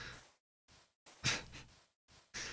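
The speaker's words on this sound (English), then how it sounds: "That's the dog panting." A dog pants close by in a series of breathy bursts with short silent gaps between them, some puffs louder and harsher than others.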